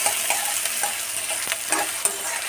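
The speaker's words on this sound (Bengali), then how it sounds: "পেঁয়াজটাকে হালকা ভেজে নেব।" Onions lightly frying in a pan with bay leaf, giving a bright continuous sizzle with a few sharp stirring clicks, close and fairly loud, no talk.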